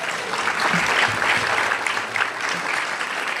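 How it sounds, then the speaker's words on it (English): A gala audience bursts into warm applause for the board chair, a broad wash of many hands clapping steadily throughout with a faint murmur of voices underneath. "A round of applause for Janine."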